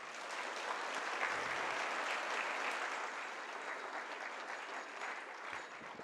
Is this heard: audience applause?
yes